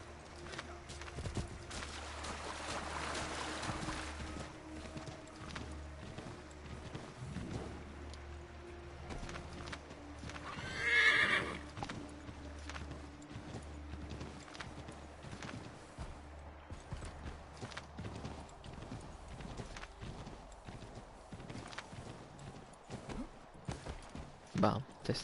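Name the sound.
horse galloping and neighing in Assassin's Creed 3 video game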